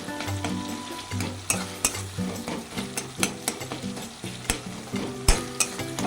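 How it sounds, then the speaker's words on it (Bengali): Tomatoes frying and being stirred in a pan for a spicy fish-roe curry: a steady sizzle broken by repeated scraping and clacking strokes of the spoon against the pan, close and fairly loud, with no voices. "টমেটোগুলো একটু ঘেঁটে দিই।"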